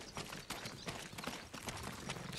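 Rapid rhythmic hoofbeats clatter steadily, a horse trotting or galloping at close range in the video game Ghost of Tsushima, fairly quiet, with no voices.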